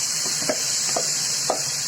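Fish pieces are added to onions frying in a pan, producing a loud, steady hissing sizzle with a few light stirring taps scattered through it.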